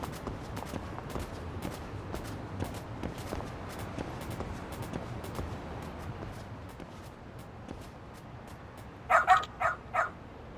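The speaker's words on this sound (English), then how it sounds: "That dog the bounty hunter is looking for" Several sharp dog barks sound in a quick cluster near the end, clear and fairly close, in the video game Lost Judgment. Softer clicks and game ambience sit beneath them.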